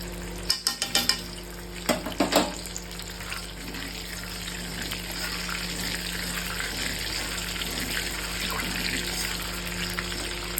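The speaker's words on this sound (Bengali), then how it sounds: "আর এই পর্যায়ে একটু ঘিও দিয়ে নেব। ঘি দিয়ে নিচ্ছি" Ghee and garam masala frying in a pan for chicken biryani, with a few sharp clatters and splashes at the start before a steady, close sizzle settles in and continues throughout.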